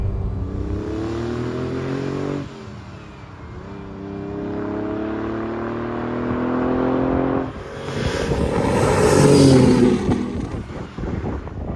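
A 1967 Ferrari 330 GTC on a road test drive, its engine rising through gears in several smooth revving pulls, each dropping at a shift, with a louder stronger surge near the end and no voices.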